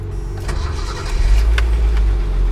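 A 1976 Datsun 280Z with freshly adjusted valves cranks briefly on the key, catches and settles into a deep, steady idle, close and fairly loud with no talking.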